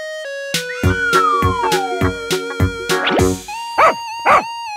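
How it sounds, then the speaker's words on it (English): A cartoon-style dog sound effect for a children's animal-learning segment: two short, bright yipping barks near the end, following a run of springy boing and rattling musical effects, with no talking. "Dog."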